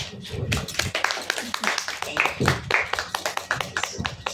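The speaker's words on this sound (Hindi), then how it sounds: "जोरदार तालियां से रागिनी मैम" Scattered hand clapping for poetry reader Ragini at a Hindi poetry recital, a sparse run of sharp claps heard close by with voices mixed in underneath.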